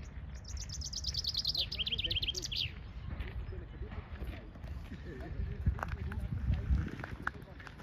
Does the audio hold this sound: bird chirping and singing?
yes